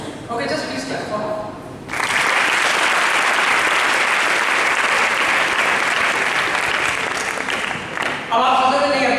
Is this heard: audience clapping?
yes